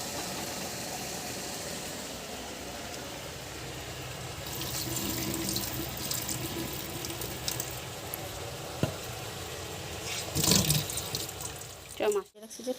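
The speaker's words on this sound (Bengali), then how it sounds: "তো চলো এটা হোক, মাছটা ধুয়ে নিই।" Dry fish is rinsed under a running kitchen tap, a steady hiss of water into a sink that swells midway, with a brief louder splash near the end.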